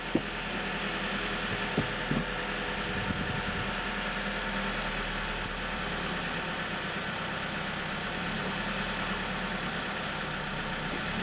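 Car engine idling with a steady low rumble and vibration throughout, a not-so-great clutch noted on the same car, with a few faint knocks near the start and no talk over it.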